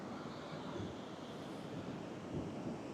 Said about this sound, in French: Il y a des vagues, mais il n'y a pas de vent du tout.